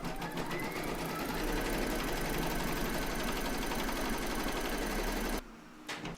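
Embroidery machine stitching a placement outline on fabric in a hoop, a steady fast mechanical whir with rapid needle tapping close by, stopping near the end with a few faint clicks.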